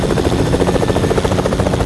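A helicopter in the Fortnite video game thrums loudly and continuously, its fast rotor chop close and steady with no voices.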